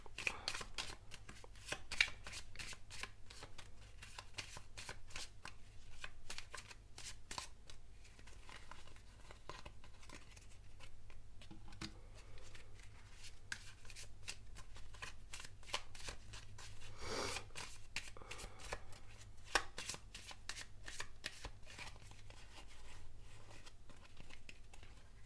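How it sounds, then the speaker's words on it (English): A deck of tarot cards shuffled over and over by hand: continuous soft riffling and papery flicking, close and quiet, with brief louder snaps along the way and no talking. "will just shuffle all of your cards right away"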